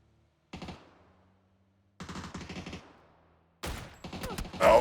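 M249 machine gun bursts in PUBG, with three sharp bursts of rapid shots separated by short pauses. The last burst is louder and denser, and there is no talk.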